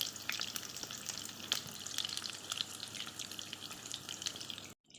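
Pork sizzling in a frying pan for a late lunch, a steady crackling and popping hiss with scattered sharp spits, fairly quiet and continuous before cutting off abruptly at the end.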